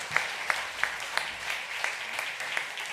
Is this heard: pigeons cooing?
no